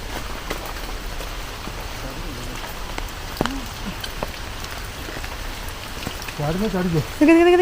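Steady rain patters all around, a soft continuous hiss, with a voice briefly joining near the end.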